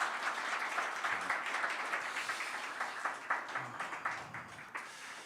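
A church congregation applauding during an eighth-anniversary worship service, a dense, even wash of clapping from a crowd that holds steady and then thins into a few scattered claps near the end.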